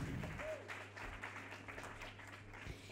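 Applause from a conference audience in Bacău fills the room as a steady, moderate clatter under a low background hum, with a few stray voices faintly heard.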